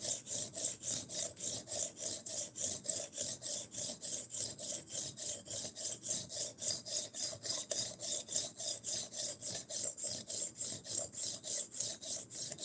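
A knife being sharpened with steady, evenly spaced rasping strokes, roughly two or three per second, repeating close and uninterrupted throughout with no voices.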